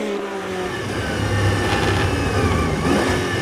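Porsche race cars roar around the Dijon-Prenois circuit during a first lap, a loud sustained engine drone that swells and thickens as the cars pass close, with no voices over it.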